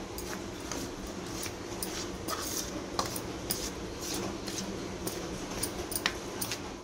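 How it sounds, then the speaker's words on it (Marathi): Wheat flour and besan being mixed together in a bowl give a steady scraping and clinking of a spoon against the dish, with light repeated taps running throughout. "हे पीठ चांगलं मिक्स करून घेऊया।"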